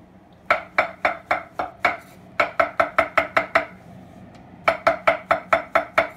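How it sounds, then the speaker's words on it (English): Mushrooms being chopped with a knife on a board, a quick series of crisp, close taps in three uneven runs separated by short pauses. "So I'm going to start off by chopping some mushrooms."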